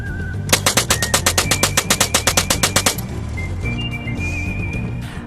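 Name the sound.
homemade DIY minigun firing .22 caliber ammo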